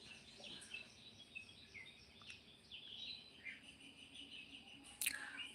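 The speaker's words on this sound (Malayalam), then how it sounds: "പുലർച്ചെ പക്ഷികളൊക്കെ കൂടുതലാണ്" Several birds chirp at dawn in scattered, faint calls against a quiet outdoor background. A brief, sharper note cuts through near the end.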